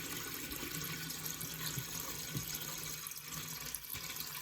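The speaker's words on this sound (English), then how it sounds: "the water's going to start flowing out, but it's controlled, it's not a mess" Water streams steadily out of a toilet fill valve as its gasket separates during a DIY repair, a quiet, continuous rushing trickle with no voices.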